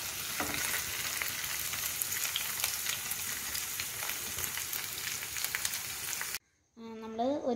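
Fried rice for a restaurant-style dish sizzles loudly and steadily in a pan on high flame, a dense continuous frying crackle that cuts off abruptly near the end, followed by a brief voice.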